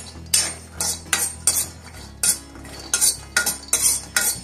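A spoon or spatula scrapes and knocks against a pan in a quick series of irregular metallic strokes while sprouted ragi is dry-roasted and stirred over a low flame, with no talking.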